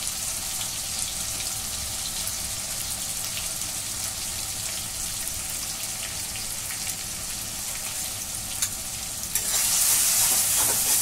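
Turmeric and chili powder being stirred through a hot pan for a Bengali chicken jhol: a steady, close sizzle with continuous scraping, growing brighter and hissier near the end.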